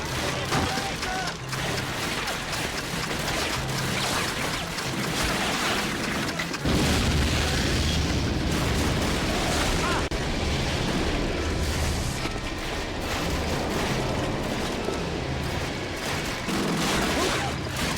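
A bomb blast in the Call of Duty: Finest Hour campaign, on a Western Africa depot level, rolls out as a loud, sustained boom with heavy low rumble. Dense battle noise surrounds it, and some voices are present.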